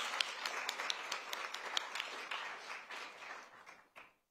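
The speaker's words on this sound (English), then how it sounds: "Let's give them a round of applause." An audience claps at a conference event, with distinct individual claps audible in a lively round that thins out and stops abruptly after about four seconds.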